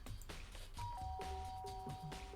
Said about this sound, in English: I press the doorbell.